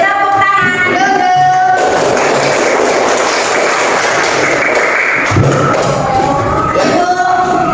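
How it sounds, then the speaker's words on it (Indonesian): A classroom of pupils bursts into applause in the middle stretch, a brief burst of clapping and voices between stretches of chatter and tonal sounds. "tepuk tangan dulu"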